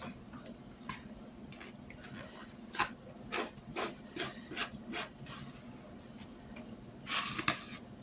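Biscuit dough being rolled out with a rolling pin on a floured counter, giving a series of soft rubbing, scraping strokes in an uneven rhythm, close and fairly quiet, with no talking.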